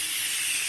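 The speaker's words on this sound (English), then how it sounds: "Instant release is where you release literally the pressure instantly." Steam hisses steadily and loudly from an Instant Pot during a quick pressure release after cooking a vinegar-based hot sauce, a continuous bright rush with no break.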